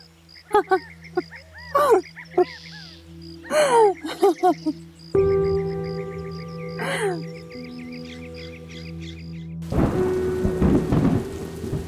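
Rain falls steadily with rolling thunder in a storm, crickets chirping faintly beneath, while voices and a few other sounds mix in before the downpour swells louder near the end.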